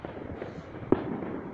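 Distant fireworks over Coventry on 5 November, heard as a faint, steady rumble of far-off bursts with one sharper single pop standing out briefly above the low background.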